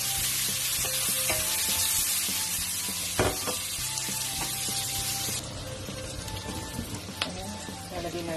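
Red bell pepper frying with garlic in melted butter in a pan, a continuous bright sizzle with occasional stirring clatter, steady throughout and easing slightly in the second half.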